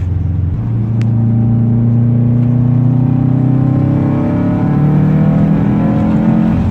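A Subaru WRX turbo engine accelerates hard from inside the car, a loud steady drone whose pitch climbs smoothly through the gear, with no talking over it.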